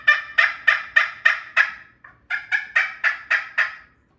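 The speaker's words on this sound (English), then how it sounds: "When you run that striker across that, you get that." Striker scraped across a friction turkey call produces two runs of rapid gobbling yelps, about a dozen sharp clucks with a short pause between, loud and close with no talking.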